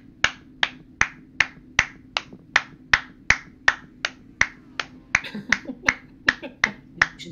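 A pit crew member in the iRacing video game claps in a steady, even rhythm, about twenty crisp claps in quick succession, with a few extra overlapping claps and a faint low engine drone beneath.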